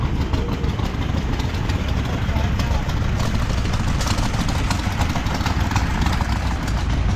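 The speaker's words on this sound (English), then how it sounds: "This is a 6-cylinder power unit." A six-cylinder International power unit engine runs steadily at a farm show, a dense, continuous mechanical drone with no pauses, loud and close throughout.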